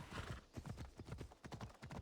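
Horse hooves clip-clop in a quick steady rhythm as a rider travels through mountains in Assassin's Creed Odyssey, a soft continuous gait heard alone.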